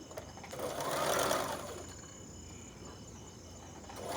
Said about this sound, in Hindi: अब उल्टे भाग को बाहर की ओर रखते हुए हमें 1/2 इंच से भी कम पर हमें डोरी के लिए तैयार सिलाई लगा लेना है।